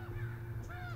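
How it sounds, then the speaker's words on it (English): Crows cawing in a Game of Thrones episode, several harsh drawn-out calls over a steady low background rumble, heard briefly and fairly faint. "he's gonna see through all these crows"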